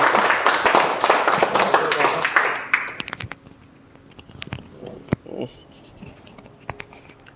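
An audience at a lecture applauds the guest speaker, a dense burst of clapping that fades after about three seconds, leaving scattered claps and room noise.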